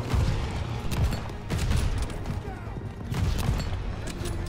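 Gunfire from a Call of Duty: Vanguard match at the Battle of Midway, repeated loud cracking shots and bursts in clusters with rumbling echoes, a voice faintly mixed in.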